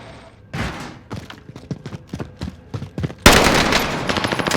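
Gunfire in Call of Duty Warzone: a rapid burst of sharp, punchy shots in an uneven rhythm, close and loud, then a denser, noisier stretch of firing and impacts.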